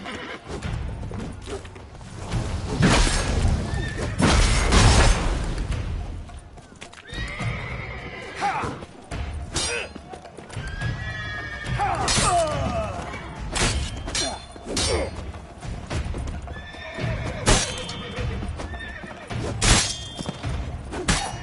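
Horses in The Witcher 3 whinny loudly several times over steady clip-clopping hooves, with thuds and scattered voices mixed in.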